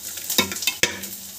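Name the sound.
sautéing nuts and vegetables in a pan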